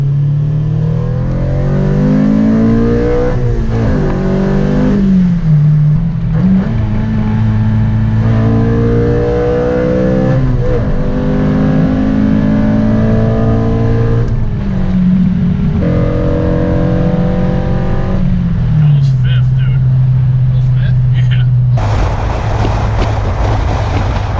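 Tuned Honda Civic Si engine revving hard through repeated dyno pulls, loud and continuous with rising and falling pitch sweeps and brief drops between gear-like surges, mostly alone without talk.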